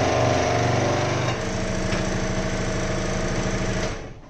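A router trims the edge of a slingshot blank, giving a loud, dense machining roar with a rough buzzing texture that changes pitch partway through as the cut shifts, then tails off as the bit leaves the wood.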